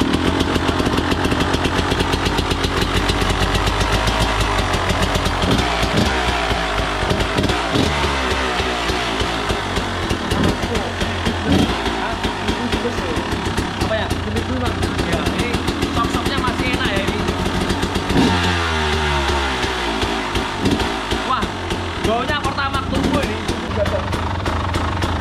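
An original trail motorcycle engine idles and runs close by, a loud continuous rattling putter with rhythmic engine pulses throughout, while someone talks over it.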